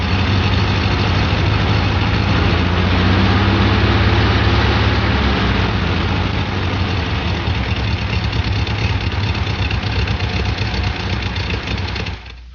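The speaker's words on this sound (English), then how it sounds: "Engine missing at low RPM." Volkswagen engine missing at low RPM, a loud, steady idle-range rumble with an uneven misfiring beat that runs continuously for about twelve seconds before cutting off, no voices.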